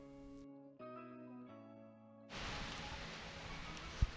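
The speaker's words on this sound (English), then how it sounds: "It's raining very hard" Heavy rain pouring down outdoors in a backyard where a mountain bike trail is being built. After a few sustained musical tones, a steady, full hiss of downpour sets in and continues to the end.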